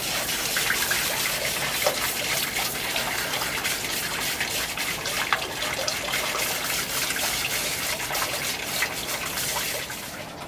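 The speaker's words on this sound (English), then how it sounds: "Wash the top of the filter box out with a hose pipe" Water from a hose pipe sprays steadily into a wetland filter box as it is washed out, a continuous close splashing gush with no break and no voices.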